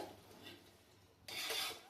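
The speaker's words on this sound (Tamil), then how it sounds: "இப்படி இந்த ஓரமாகவே தான் அரிசி நம்ம கரண்டி போட்டு கிளறி விடணும்." A ladle stirs mushroom biryani rice in a pot, giving soft low hiss at first, then a brief, close scraping rasp near the end with no voices.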